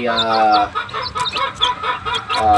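A gamefowl rooster clucks in quick, repeated bursts, close and loud, with harmonic calls broken by short gaps through the whole stretch.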